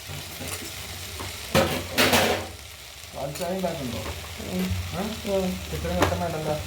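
Potatoes and carrots drop into a pot of beef stew with a couple of sharp splashing thuds, followed by a steady sizzle and stirring scrapes while a voice talks over it.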